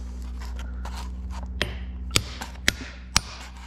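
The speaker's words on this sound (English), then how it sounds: "You just got to keep on hammering it until it gets at least flush with this piece right here." Metal hammer blows striking a part being driven into the steering gear box of a 1973 Ford 3400 tractor, four sharp distinct strikes spaced roughly half a second apart over a steady low workshop hum.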